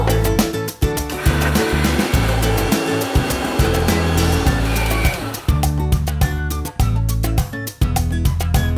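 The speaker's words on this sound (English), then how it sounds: "So let's grind the dal now." A mixer grinder grinding soaked moong dal with green chilies, a loud continuous motor roar with pulsing chops and brief dips as it runs in bursts, close and dominant, no speech.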